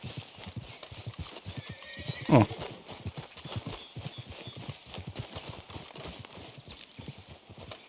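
Steady hoofbeats clop along at a walking rhythm in the video game Red Dead Redemption 2, with a brief horse whinny partway through and a single short voice.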